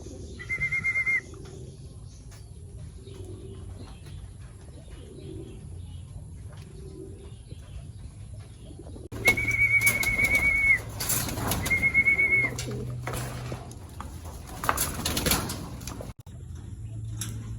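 Pigeons in a loft cooing repeatedly up close, soft low throaty coos through the clip with a few brief higher whistling calls and some rustling and clatter partway.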